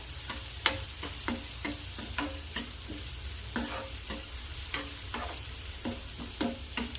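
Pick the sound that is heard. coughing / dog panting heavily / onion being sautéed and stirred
onion being sautéed and stirred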